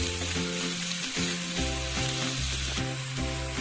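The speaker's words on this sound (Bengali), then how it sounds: "এবার পেঁয়াজগুলো ভেজে নেব" Onions frying in hot oil in a pan, giving a loud, continuous sizzle and crackle that stays dense and even throughout, with no voices.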